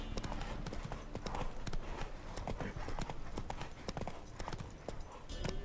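Horse hooves clip-clopping steadily during a horse endurance race in The Witcher 3: Wild Hunt, a brisk, even rhythm of loud close hoofbeats over outdoor game ambience, with faint voices in the background.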